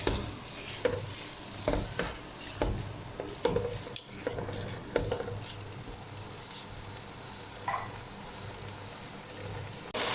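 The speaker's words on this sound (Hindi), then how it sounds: "दरमियानी आंच पे 7 से 8 मिनट हम अच्छी तरह कीमे को कुक करेंगे।" Mutton keema cooking with spices over medium heat, stirred again and again with a utensil scraping the pan, a steady low sizzle underneath and irregular clinks and scrapes close by.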